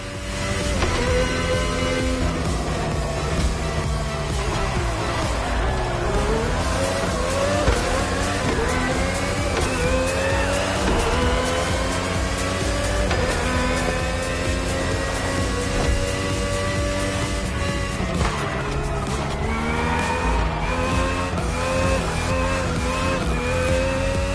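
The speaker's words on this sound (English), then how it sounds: "RB18 is the latest model with more aggressive aerodynamics and a powerful Honda engine" A Red Bull RB18 race car with a Honda engine in The Crew Motorfest, its high engine whine rising and falling through gear changes, continuous and loud with no talking.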